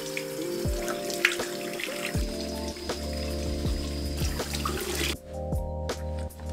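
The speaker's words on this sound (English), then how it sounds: "I'm gonna rinse it off in the shower." Shower water sprays and splashes steadily while someone rinses a sea moss face mask off with cold water. Irregular drips and spatters are heard close by, and the flow briefly drops near the end.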